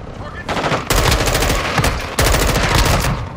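Rapid automatic gunfire from the Modern Warfare 2 video game, loud and close, in two sustained bursts separated by a brief pause, with a quieter lead-in before the first burst.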